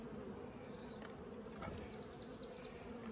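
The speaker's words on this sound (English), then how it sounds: "Got a lot of bees in the lid." Many honeybees buzzing steadily around a hive lid, a dense continuous drone with individual insects passing nearer, fairly quiet and without any talking.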